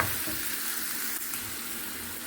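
Chopped onion sautéing in a pan with salt and coriander, a soft, even sizzle close by that holds steady for a couple of seconds.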